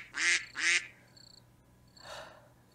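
Ducks quacking in a wooded homestead setting, two loud close quacks in quick succession, then a quieter pause and a softer, more distant call.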